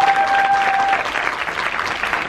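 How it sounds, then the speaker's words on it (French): Audience applause at a family influencer awards ceremony, a dense steady wash of clapping from a crowd lasting throughout, fairly loud and without speech over it. "C'est le premier de la soirée, donc on va l'applaudir."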